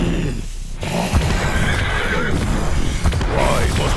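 A horse in the COD Zombies video game gives a loud, close, drawn-out neigh and whinny with snorting breaths and a few hoof clops, set against a game soundscape.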